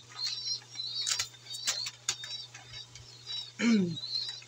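Racing pigeons in a loft make scattered chirps and soft coos with brief fluttering bursts and one louder rustle near the end, all close and over a steady low hum.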